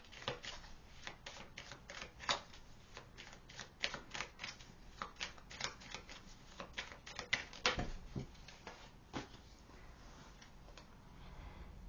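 Tarot cards being shuffled close by, with rapid, irregular crisp riffling taps and flicks that come in bursts and then quieten near the end.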